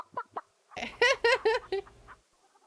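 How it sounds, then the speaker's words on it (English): Video game chickens clucking back and forth in a short run of burbling, pitched calls, starting with two quick isolated clucks and then a louder cluster of rising squawks, heard clearly with no talk over them. "So the chickens are just having a conversation."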